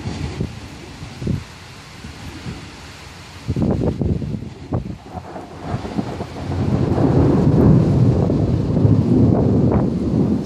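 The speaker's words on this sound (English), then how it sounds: "60 miles an hour winds." A severe thunderstorm with 60 mph winds in Quartzite: low thunder rumbles and wind gusts buffet the microphone, building into a steady loud roar of wind and rain through brush.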